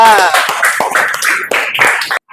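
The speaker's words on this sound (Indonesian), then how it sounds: "Ya, tepuk tangan buat kelompok 2." Students in an Indonesian classroom applaud a discussion group, with a brief burst of hand claps mixed with voices and cheering that ends abruptly.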